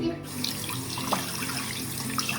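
Tap water pours steadily into a bathtub, a continuous soft rushing stream with no voices over it.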